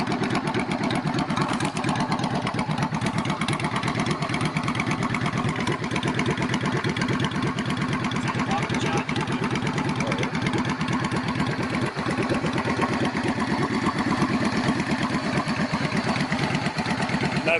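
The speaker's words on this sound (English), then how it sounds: "2011 Yamaha V-Star Classic 650. Customised to a bobber." A 2011 Yamaha V-Star Classic 650, customised into a bobber, idles loud and close. Its steady engine rumble pulses evenly and holds for the whole stretch, with no talking over it.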